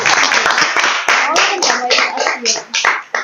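Applause for a student's competition win at a school gathering: dense, continuous clapping from a crowd of hands, loud and close, with voices mixed in throughout.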